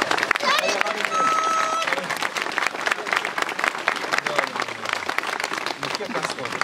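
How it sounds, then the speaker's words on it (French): An audience claps in dense, continuous applause that stays fairly steady and moderately loud, with voices and brief tones mixed in. "Allez, on applaudit Kiki parce que ça va."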